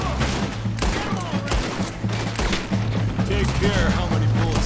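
Gunfire during a train robbery in Red Dead Redemption 2, rapid bursts of shots and thuds in quick succession over game music, with a player talking throughout.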